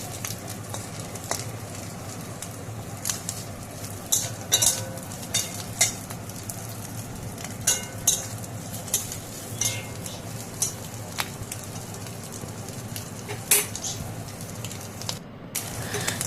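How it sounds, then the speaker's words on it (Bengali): Prawns frying in a pan, a steady soft sizzle broken by repeated sharp scrapes and clinks of a utensil stirring against the metal, fairly close. "দেখো চিংড়ি মাছগুলো আমার ভাজা হয়ে গেছে, এবার চিংড়ি মাছগুলো নামিয়ে নেব"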